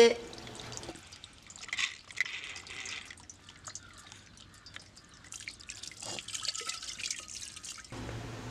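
Water drips and trickles from a kitchen tap over a bronze vessel being washed in the sink, with small splashes and clinks. Quiet background voice.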